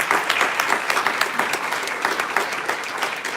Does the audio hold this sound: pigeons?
no